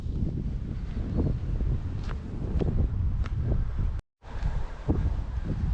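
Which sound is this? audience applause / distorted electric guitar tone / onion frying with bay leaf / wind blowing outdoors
wind blowing outdoors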